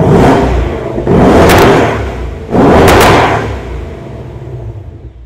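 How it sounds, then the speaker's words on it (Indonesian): Ford Mustang engine and exhaust in its loudest racetrack mode, loud and close, with two sharp revs that each build to a roar and fall away, followed by a fading rumble. "Habis itu kita lompat gimana suara mobil ini di mode yang paling keras deh,"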